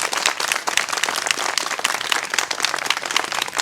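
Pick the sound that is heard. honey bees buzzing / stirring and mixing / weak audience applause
weak audience applause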